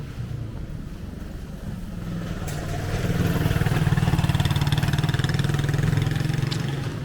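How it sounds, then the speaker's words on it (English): A motorcycle engine rumbles steadily nearby on a street in Konya, Turkey, growing louder partway through and holding a rough, pulsing idle-like drone with some wind noise. "motorcycle"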